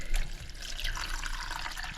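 Wild clay slurry poured through a strainer gives a steady, close liquid pouring and splashing sound with drips, continuous for about two seconds without speech.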